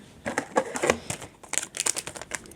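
Plastic packet of Winx trading cards being opened by hand, a run of close, crisp crinkling and rustling bursts with brief pauses, no talking.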